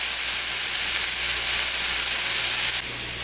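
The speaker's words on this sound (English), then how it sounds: "Got it, pineapple in there. It's sizzling." Pork and pineapple sizzle in a hot pan, a loud, steady hiss that fills the whole stretch and then drops abruptly to a softer level near the end.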